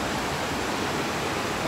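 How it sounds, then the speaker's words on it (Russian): Continuous broadband rush of a mountain waterfall at Ella, Sri Lanka, water falling from high above, steady and fairly close, with no pauses. "Ой, вот и водопад. Не маленький, течет сверху аж."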